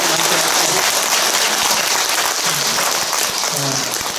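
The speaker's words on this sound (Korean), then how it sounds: "박수 한번 보내드립시다" Audience applause after a Buddhist dharma talk during a seven-day prayer service: dense, steady clapping filling the hall throughout, loud and continuous with some voices mixed in, easing slightly toward the end.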